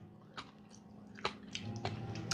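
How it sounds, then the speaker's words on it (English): Someone bites and chews crunchy cooked spaghetti from a spaghetti pie, with a few soft, close, moist crunches scattered over a quiet hum. "That's the cooked spaghetti. That's what that is. Crunchy spaghetti."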